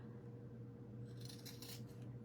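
Scissors cutting through drop cloth fabric, faint close snipping and rustling in the second half over a quiet steady hum.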